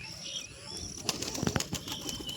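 Pigeons flap their wings close by, a short burst of rapid fluttering beats over quiet background chirps.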